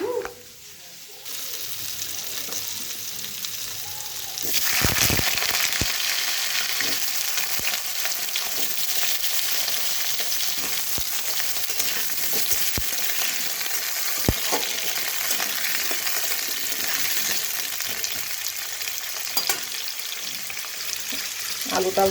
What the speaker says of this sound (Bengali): আলুটা ভাজা হয়ে এসছে